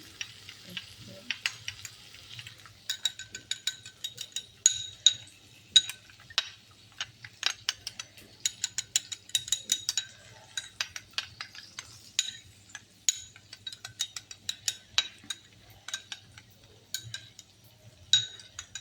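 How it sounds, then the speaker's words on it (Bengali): Yogurt being whisked with a little water in a bowl, giving a steady run of quick light clinks and scrapes at close range, with a faint low hum underneath and no talking. "দইটা আমি একটু জল দিয়ে ফেটিয়ে নিচ্ছি"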